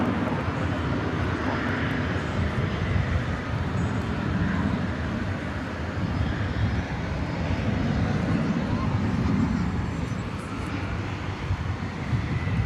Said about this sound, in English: we are looking at a 20th century MD-11 off to Louisville, scheduled to go out at 9:55 p.m.